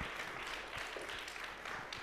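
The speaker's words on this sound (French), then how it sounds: "Christiane, on peut l'applaudir un peu plus." Applause from an audience at a French community conference on public services, thanking a speaker with a brief, dense wash of clapping that stays fairly faint and even throughout.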